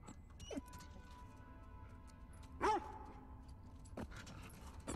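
A dog in The Last of Us Part II gives a few short, sharp barks and yelps, spaced apart, over a quiet low background hum with small mechanical noises.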